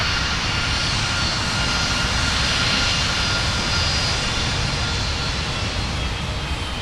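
An airliner takes off from a runway at MSP airport, its engines producing a loud, steady roar from start to finish.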